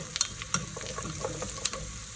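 Onions and carrots for a vegetable soup sizzle in a pot while being stirred, with scattered light clicks of the spoon against the pot over a constant soft frying hiss.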